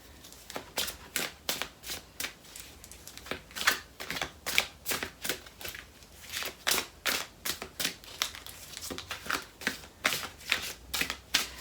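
Thick cardstock tarot cards with foiled edges are shuffled in quick repeated riffles, a rapid series of crisp snapping bursts close to the mic, steady and rhythmic with no talking.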